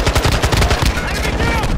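Turret machine gun fire in Call of Duty Modern Warfare, a loud, continuous rapid burst of gunshots lasting the whole moment.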